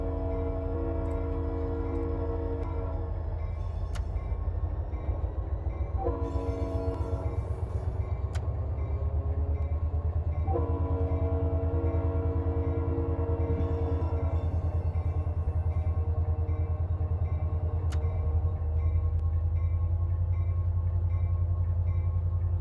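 A CSX freight train rolls along the main line in the Run 8 train simulator, a steady low rumble of locomotives and cars with sustained tonal horn-like drones swelling and fading over it, continuous and close throughout.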